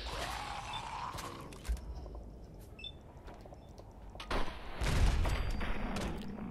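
A mini nuke detonates in Fallout 4, a dense, rumbling blast that swells to a heavy low boom near the end amid continuous noisy game action, with no voices.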